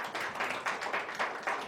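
A church congregation clapping hands in thanks during a sermon, a steady run of about six rhythmic rounds of massed claps, moderately loud and without talk.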